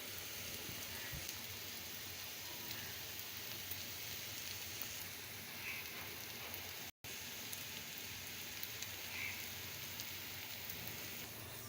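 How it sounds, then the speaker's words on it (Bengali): Chickpea dal fritters fry in hot oil with a soft, continuous sizzle and crackle, fairly quiet and even throughout. "এভাবে আমি বাকিগুলো ভেজে নেব।"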